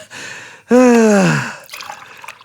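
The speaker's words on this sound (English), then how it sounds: "now I can just pour myself a cup of coffee" Coffee pours into a cup with a short liquid gurgle and trickle, briefly overlapped by a drawn-out, rising vocal exclamation from a person nearby.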